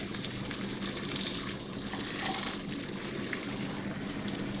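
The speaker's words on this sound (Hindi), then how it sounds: "थोड़ा सा भूनने के बाद इसमें थोड़ा सा पानी डाल रही हूँ मैं" Water poured into a kadhai of frying garlic-ginger paste makes a steady, continuous gushing hiss with faint sizzle that fills the whole stretch, close and moderately loud with no talk.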